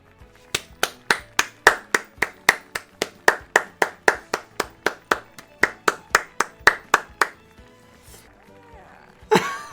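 Hands clapping in an anime episode, roughly two dozen sharp, evenly spaced claps in a steady rhythm, then a pause and a brief burst of louder sound at the end.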